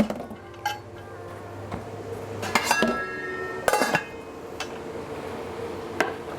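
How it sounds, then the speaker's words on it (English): A skillet and pots clink and clatter as they come out of a kitchen cabinet, with several sharp metallic knocks and rings spaced unevenly among quieter shuffling, close by. "Do we want to bring up a skillet?"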